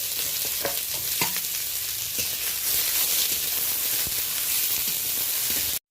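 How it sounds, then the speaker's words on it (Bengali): Garlic, onion and chili frying in a wok, giving a loud, steady hiss of sizzling oil with occasional stirring knocks that stops abruptly at the end. "রসুন আর পেঁয়াজটা এইভাবে হালকা লালচে করে ভেজে নিলাম"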